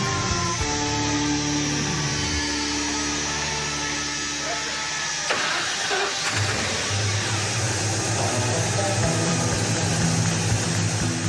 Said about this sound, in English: The engine runs. That is awesome.